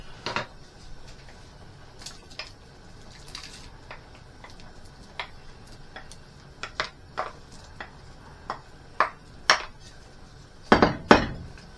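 Peppers drop into a simmering rabbit and chorizo pan, heard as scattered metal clinks and scrapes of a utensil against the pan over a low bubbling background, the knocks growing louder and denser toward the end.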